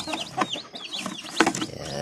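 Chickens with newly hatched chicks cluck and cheep close by in short overlapping calls, lively and continuous for a brief moment.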